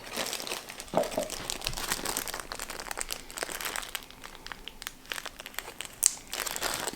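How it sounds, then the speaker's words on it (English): Plastic bag being squeezed to push the air out around duck breasts coated in seasoning powder, with continuous close crinkling and rustling and a few sharper crackles. "I'm going to try to push as much air out of this bag as I can."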